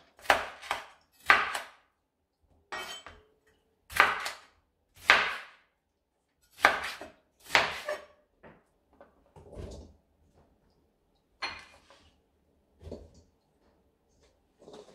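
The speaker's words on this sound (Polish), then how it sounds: "Paprykę w grubsze plastry, a następnie w grubą kostkę." A knife chops bell pepper into thick cubes on a wooden board in sharp, hard strikes, loud paired blows at first, then lighter scattered cuts trailing off, with no talking.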